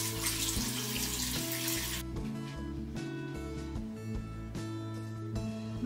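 A tap runs water while a skin care product is rinsed off, a loud hiss for about two seconds that then drops away, leaving music playing steadily underneath.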